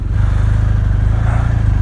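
A BMW R1250 RT Sport Pack 2022 motorcycle sets off on a hill, its boxer engine giving a loud, close, rhythmic low throb that pulses steadily.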